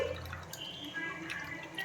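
Tamarind soaked in rice-washing water is poured from a vessel while cooking paruppu urundai kulambu, a short close trickle with scattered drips and small splashes, no talking.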